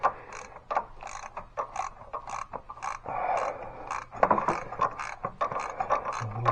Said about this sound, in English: Now we get number 13 socket.